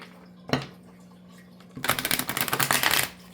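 A deck of reading cards is shuffled up close: a single soft riffle first, then a longer, rapid fluttering burst of cards slapping together, fairly quiet against a low background hum.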